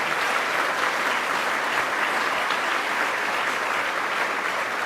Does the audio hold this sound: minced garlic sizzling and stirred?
no